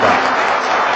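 Congregation at a Korean Catholic charismatic prayer meeting breaking into a dense burst of thankful applause, filling the room loudly and evenly for about a second.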